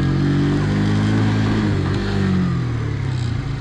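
A Barton 50cc fuel-injected motorcycle engine hums steadily close by, its pitch shifting smoothly with light revving, with no talk over it.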